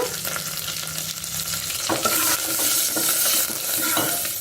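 Dried red chillies with their stems fry in hot oil with curry leaves, turmeric powder and asafoetida. The oil gives a close, constant sizzle with a few sharp crackles and soft clicks of stirring, and no one speaks.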